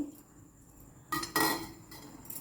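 Metal spoon clinks and scrapes against a bowl while idli pieces are tossed with salt and chili, a few short bright knocks at close range with no talk.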